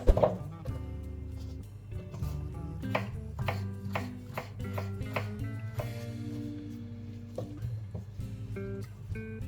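A knife slicing a halved tomato thinly on a cutting board for a baked salmon in parchment dish, with a series of crisp, close, irregular chopping taps against the board.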